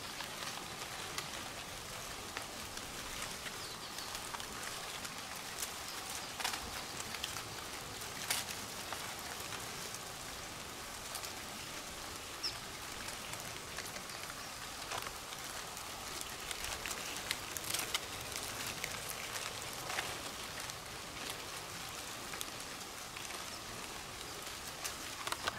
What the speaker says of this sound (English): these crabs are just crawling along the leaves, along the ground, and causing all this noise to sound like rain